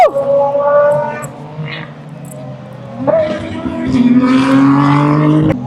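Super GT race cars at Sepang International Circuit in Malaysia scream past with rising and falling engine pitch, one car fading away before another roars in louder, while a person talks throughout.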